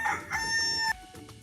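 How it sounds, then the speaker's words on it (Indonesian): A single rooster crows once in a loud, close, drawn-out call lasting under a second, followed by quiet with no voices. "Ayam jantan bersuara"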